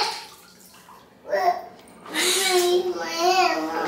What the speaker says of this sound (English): I'm gonna wash this hair.